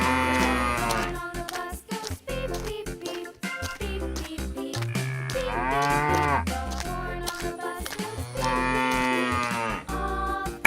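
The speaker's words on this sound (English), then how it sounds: "Cow." A cow mooing sound effect, several long drawn-out moos rising and falling in pitch, loud and close, set against intermittent clattering and thumping noise.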